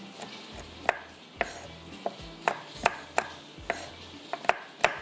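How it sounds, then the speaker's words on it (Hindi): Almonds chopped with a knife on a board while preparing a tarka for cheese pineapple pasta: about ten sharp, close knocks in an uneven rhythm, heard alone with no talk. "ये मेरे पास जो है बादाम है, इसको कट कर लेते हैं इस तरह से"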